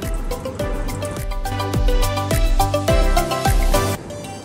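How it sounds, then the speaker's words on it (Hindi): Water trickles and drips into a pan of paneer curry cooked with yogurt, making a run of bubbly, gurgling plops in an uneven rhythm that stop suddenly near the end, with no one talking. "थोड़ा सा पानी ऐड करेंगे इसमें।"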